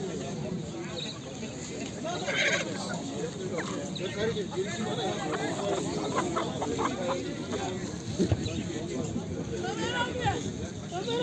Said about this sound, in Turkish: Cins tavuklar.